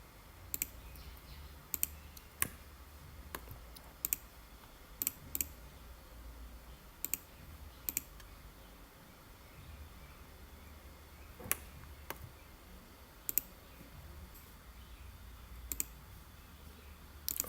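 Computer mouse clicking while corners are selected in SolidWorks CAD software, about twenty crisp, sharp clicks at irregular intervals, some in quick pairs, close and quiet over a faint hum.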